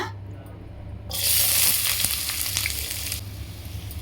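Shallots drop into hot groundnut oil in a pan, bursting into a loud, steady sizzle and crackle after a brief quiet start, frying close up with no talk.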